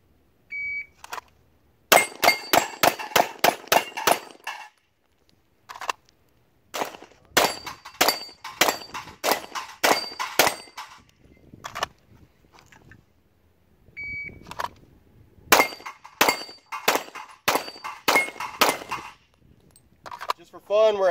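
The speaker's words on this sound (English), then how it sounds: "So we'll move over and shoot a plate rack and show you what the ammo's capable of" Bullets ring off a steel plate rack 50 yards away. Strings of rapid gunshots are each followed by a metallic clang, coming in several bursts with short pauses between them.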